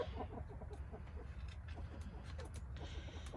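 Chickens softly clucking as they go up to roost in the coop at evening, scattered low clucks and murmurs at a distance over a steady low rumble, fairly faint.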